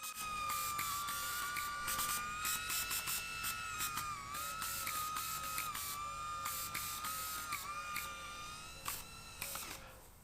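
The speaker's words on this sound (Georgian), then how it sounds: "ჩემი ახლახან აშენებული გაზის რეაქტიული დრონი" A homemade gas-fuelled jet engine on a drone runs steadily throughout, giving a loud, sustained whine that wavers slightly in pitch over a rough roar, with faint ticking and rattling mixed in.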